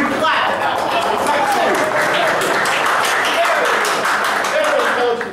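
Loud, steady audience clapping during a live improvised sci-fi Star Trek parody show, the crowd applauding to pick an option, with voices and cheers mixed into the dense applause throughout.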